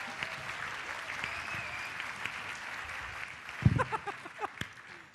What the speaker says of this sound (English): real round of applause